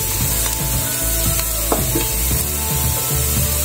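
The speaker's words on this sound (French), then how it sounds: "Les oignons ont déjà suffisamment bien doré." Onions fry in a pan with a loud, continuous sizzle, punctuated by repeated wooden scraping and stirring strokes close by.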